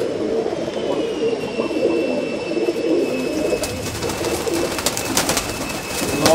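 Pigeons in a loft coo steadily and close at hand, a soft layered murmur of calls with a few sharper sounds near the end.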